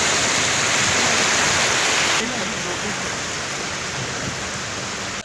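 Rainwater rushes over flooded roads in Prayagraj after two days of rain, with blocked drains overflowing, a loud, dense, steady wash of water that fills the whole stretch, with voices faintly mixed in.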